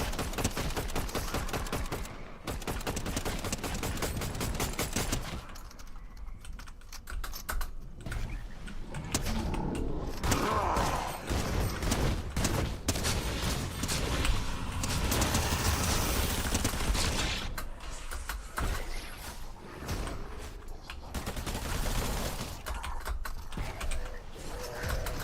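Dense gunfire in the Fortnite video game, rapid overlapping bursts and mechanical clatter running almost nonstop at a fairly low volume, with no voices.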